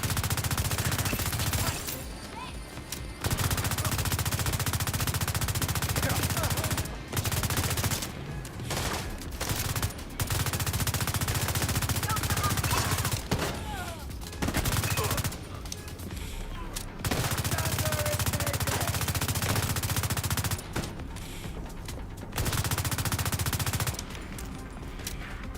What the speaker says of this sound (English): It's that turret back there.